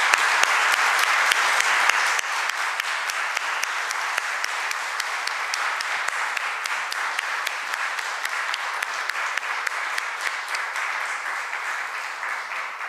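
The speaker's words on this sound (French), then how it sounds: "Je pense que ça mérite une main d'applaudissement." A large audience applauds the graduates at a continuing-education diploma ceremony: sustained, dense clapping with scattered crisp claps poking through, holding at an even level for the whole stretch.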